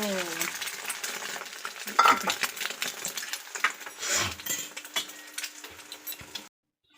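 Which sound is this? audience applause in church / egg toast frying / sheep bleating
egg toast frying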